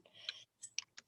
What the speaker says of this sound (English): I'm typing that in the chat so everybody can see it.